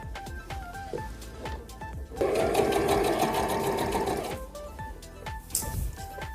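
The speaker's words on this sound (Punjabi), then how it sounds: "ਇਦਾਂ ਪੱਗ ਨੂੰ ਸਲਾਈ ਪੈ ਜਾਣੀ" A sewing machine stitches a turban in a close, rapid mechanical whir lasting about two seconds, with softer handling and clicking sounds before and after.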